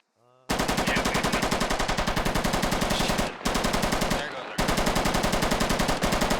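Machine gun fire in the video game Squad comes as long sustained automatic bursts of rapid, loud, evenly spaced shots with brief pauses between strings.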